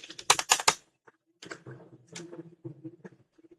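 Typing on a computer keyboard: a fast burst of loud, close key clicks, then slower scattered keystrokes in uneven clusters.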